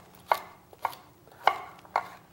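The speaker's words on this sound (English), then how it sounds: "The next one, some carrots. So again, just very coarsely chopped." A knife coarsely chopping carrots on a cutting board gives four distinct, close thuds at a steady, unhurried pace, clear against a quiet kitchen background with no talking.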